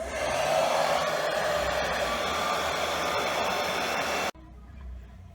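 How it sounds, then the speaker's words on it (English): A hair dryer blows on hair with a steady loud whooshing roar for about four seconds, then cuts off abruptly, leaving only a faint background hum. "I'm done drying my hair."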